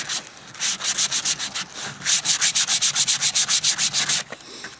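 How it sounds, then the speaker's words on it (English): Sandpaper rubbed by hand over a wooden clock piece, close and loud, in rapid rhythmic back-and-forth strokes that come in two bursts with a short pause between them. "Sanding, sanding, sanding. Smoothing it all out."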